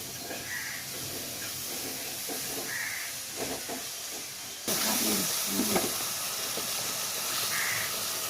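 Tomatoes sautéing in a pan for catfish curry give a loud, continuous frying hiss that swells midway, while a few crows caw faintly in the background.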